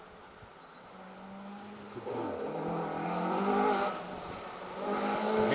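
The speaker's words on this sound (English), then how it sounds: "It's nice to be able to watch the cars coming all the way up the valley." Rally cars climbing up a valley: distant engine whine builds and rises steadily over a few seconds, with tyre and motor noise growing louder toward the end and a brief spoken word.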